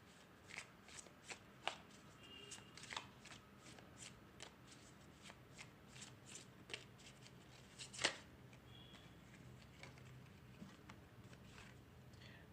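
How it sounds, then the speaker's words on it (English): Tarot cards shuffled and handled up close, a long run of soft, quick riffling flicks and slaps with a sharper snap near the middle, alone with no talk. "Let me draw out all the cards."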